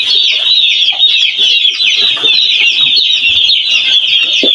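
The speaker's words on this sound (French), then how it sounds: "Vous prenez un autre carton qui a des poussins à l'intérieur." Chicks cheep continuously in a cardboard box during weighing, a dense overlapping chorus of high peeping, close and steady throughout.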